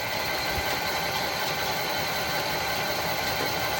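A brushless DC motor runs steadily under load on a test bench, giving a constant broadband whir and hiss with a faint low vibration, unchanging throughout and fairly close.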